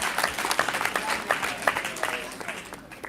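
Applause for under-15 cricket tournament winners at a cricket academy event, a steady wash of many hands clapping close by, with a voice or two mixed in underneath.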